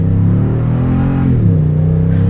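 A Toyota Tundra TRD Pro truck's V8 engine rumbles low and loud at close range, the pitch sliding down and then settling into a deep, steady burble.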